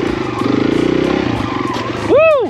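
A Kawasaki KLX140RF dirt bike on loose ground chugs at low revs, then the throttle snaps open into a loud rising-and-falling rev burst during a wheelie attempt, heard up close.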